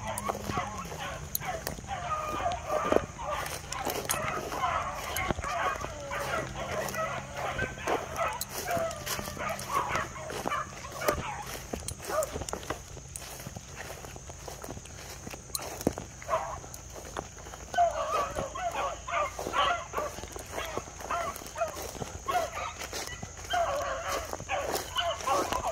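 A rabbit-tracking hunting dog barks repeatedly, sometimes yipping and whimpering, amid outdoor commotion with footsteps, hoof-like clatter and occasional voices.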